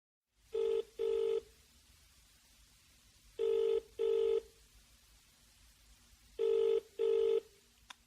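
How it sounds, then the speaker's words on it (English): Telephone ringing in the classic double-ring pattern, three pairs of bright electronic trills spaced evenly apart with short pauses, clear and close over faint background hiss. "He is phoning her for directions."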